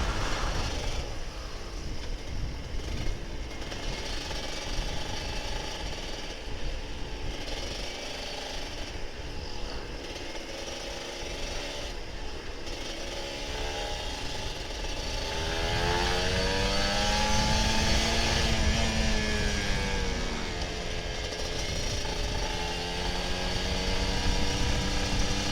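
A Kawasaki Ninja RR 150 two-stroke motorcycle on a road ride gives a continuous raspy, buzzing engine note, revving up and down with rising and falling pitch sweeps near the end, heard close and loud with wind noise and no talking.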